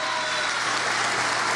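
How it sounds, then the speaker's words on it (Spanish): An audience claps steadily at a passenger terminal inauguration event in La Guaira, a dense, even burst of applause throughout with no voices standing out. "un aplauso a Escalonator"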